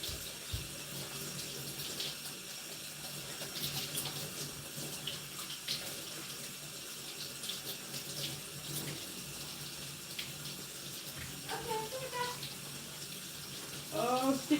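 A tap runs steadily into a sink in an old café kitchen as hands are washed, a continuous splashing stream with some faint background clatter.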